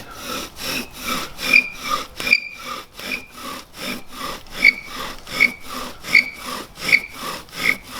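Rhythmic back-and-forth rubbing of a bow drill's wooden spindle, about two strokes a second, with squeaky friction chirps on each pass, close and loud.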